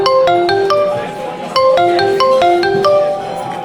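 A phone ringtone plays a repeating melodic chime pattern, loud and close, cycling twice with bright bell-like notes.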